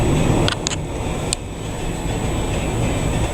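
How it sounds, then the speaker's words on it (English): A car pushes slowly through knee-deep floodwater in a parking lot after a hurricane, giving a steady loud wash of engine and churning water with a few faint higher clicks near the start. "Car's barely making it through it."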